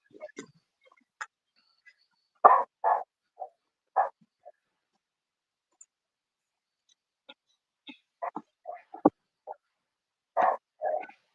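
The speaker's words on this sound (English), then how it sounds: "The older she gets, she just gets out there and barks." A dog barks in short bursts, several separate barks spread out with quiet gaps between them, fairly close.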